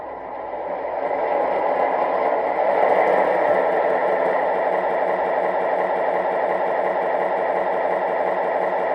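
A steady, continuous idling rumble from an MTH Rail King PRR SW9 switcher model locomotive after startup, with a constant mechanical drone heard alone and close throughout.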